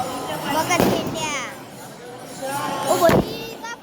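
Firecrackers burst beside a palanquin procession in a crowded village square: two sharp, loud bangs roughly two seconds apart ring over a steady murmur of voices.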